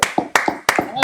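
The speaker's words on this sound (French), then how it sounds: "un tonnerre d'applaudissements" Sharp, close handclaps ring out among a small group, four loud claps spaced about a third of a second apart, with voices mixed in between them.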